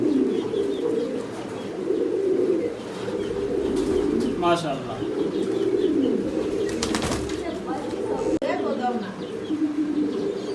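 Baby Yellow English Tailmark pigeons on a farm coo softly in low, rolling calls, with a few brief chirps, under someone speaking nearby.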